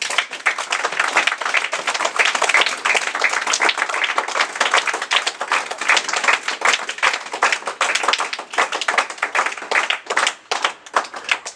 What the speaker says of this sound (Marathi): भैयाच्या आणि आपल्या जोरात टाळ्या वाजवायच्या.